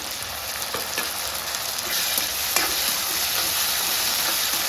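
Chopped tomatoes hitting a hot pan while cooking chole masala, a loud continuous sizzle and fry with stirring scrapes, close up and without speech.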